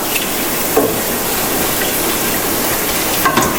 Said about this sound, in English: So cumin, cloves, green cardamom, and some black cardamom, and we'll saute it for a little while until it loses the aroma